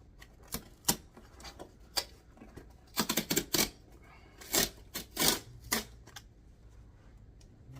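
Kenzo cap packaging box being torn open by hand: a run of sharp, crinkly cardboard and paper rips and rustles, close and fairly quiet, arriving in irregular bursts with no speech.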